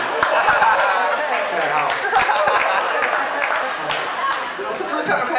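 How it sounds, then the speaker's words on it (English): A comedy club audience breaks into applause and laughter, dense clapping and crowd chatter filling the room steadily and loudly for several seconds. "It's the first time I've had an applause break for that joke."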